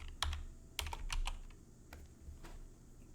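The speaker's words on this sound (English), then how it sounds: "when you hit the tab key on the keyboard, it smooths out" Close typing on a computer keyboard, with scattered crisp key clicks and presses including the tab key, irregular and fairly soft with no talk.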